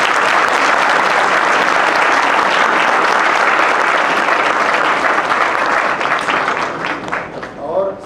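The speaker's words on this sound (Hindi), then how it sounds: "मैं चाहता हूँ एक जोरदार तालियों से उनका" Loud, sustained audience applause at a staged play performance, a thick, even roar of clapping that holds for several seconds before thinning out near the end as individual claps and a voice emerge.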